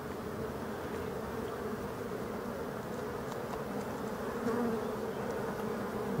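A steady, dense hum of black honeybees buzzing on ivy and phacelia in Brittany, close and continuous, with no voices and only slight swells in loudness.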